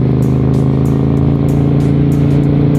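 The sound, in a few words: Honda Shadow 400 1992 motorcycle exhaust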